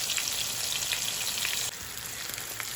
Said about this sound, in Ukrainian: рибка наша смажиться дуже гарненько